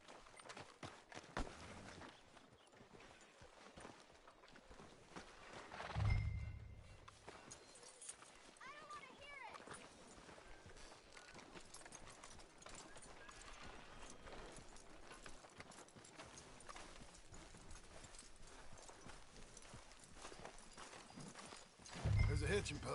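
Horse hooves clip-clop at a steady walking pace in the video game Red Dead Redemption 2, moderately close, under continuous ambient noise and occasional speech, with a couple of louder thumps.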